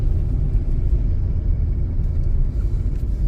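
Car engine rumbling steadily and close during a driving lesson at low speed, a low, continuous drone with slight swells as the clutch comes up, no voices.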